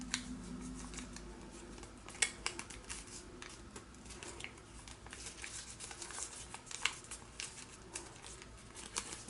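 Origami paper being folded and creased by hand into a fly flicker, a run of soft crinkles, taps and brief rustles at close range, irregular and quiet, with no talking.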